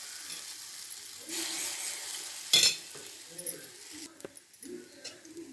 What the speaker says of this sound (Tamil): இந்த பனியார மாவை ஊற்றிக்கலாம்